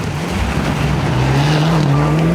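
A rally car drives flat out through a night stage, its engine note loud and sustained, rising and falling with steady revs and gear changes throughout, no pauses.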